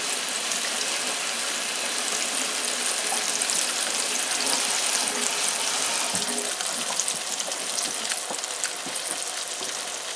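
Four flounder pieces frying in a pan, giving a dense, continuous sizzle with small crackles and pops throughout, close and steady.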